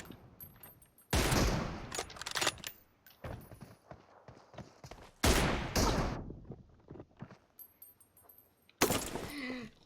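Gunfire in PUBG Mobile comes in several loud bursts of rapid shots separated by quieter gaps, close and sharp, with a few isolated single cracks between them.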